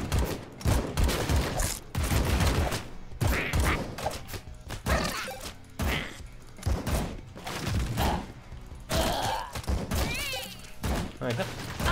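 Rapid weapon fire in the bullet hell game AK-xolotl, a dense run of sharp shots and impacts in close bursts, with someone talking between and over the volleys.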